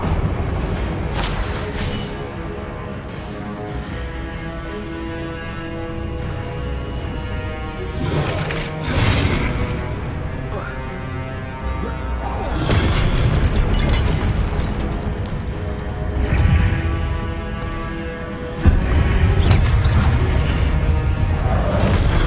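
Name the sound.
spell explosions (Incendio, Confringo) from video game Hogwarts Legacy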